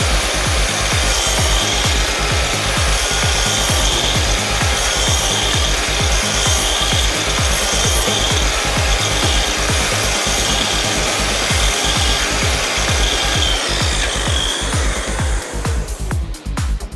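A Festool KAPEX KS 60 sliding compound mitre saw runs continuously, loud and close, as it cuts a housing across the width of a timber board with a steady, rasping grind, easing off near the end with no talk.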